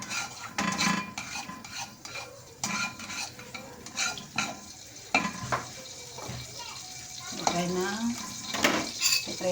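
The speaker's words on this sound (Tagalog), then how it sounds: "Magpiprito tayo ng itlog at saka hotdog" Eggs and hotdogs fry in a pan in a home kitchen, a steady sizzle under clinks of utensils and stirring against the pan, with a voice speaking over it now and then.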